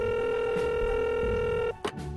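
A steady tone with a few short tone changes plays from a phone while a voicemail passcode is entered on its keypad, then a brief click and rustle.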